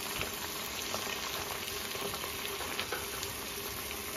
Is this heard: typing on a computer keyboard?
no